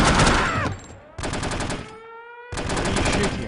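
Gunfire in the video game No One Lives Forever comes in bursts of rapid automatic shots, three loud volleys separated by short pauses with ringing tonal sounds between them.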